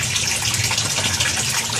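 Water from an aquaponics pipe drains into a sump tank as a loud, constant gushing splash, steady and close, with no other sounds.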